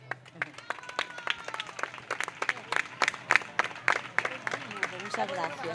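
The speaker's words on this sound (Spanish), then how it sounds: "así que un fuerte aplauso" Applause at an awards ceremony during a pepper festival, scattered claps rising and falling alongside a voice speaking into a microphone and some crowd murmur.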